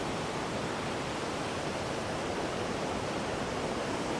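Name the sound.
water rushing at Hogenakkal falls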